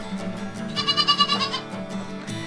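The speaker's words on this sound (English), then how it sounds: "And here's Freckles, which is my goat, and one of her babies, and another one of her babies." A goat on a hilltop farm gives a loud, close, wavering bleat in the middle of a steady background of other sound.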